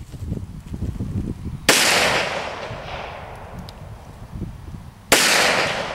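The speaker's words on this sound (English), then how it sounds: "Just shoot it one time, see what kind of recoil you get. You gotta cock it. That's a 45 now," Two loud, sharp gunshots from a .45 handgun fired outdoors, spaced about three seconds apart, each cracking close by and trailing off in a long echoing decay over faint background noise.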